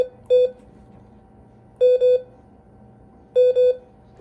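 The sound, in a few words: Morse code key beeping the letter M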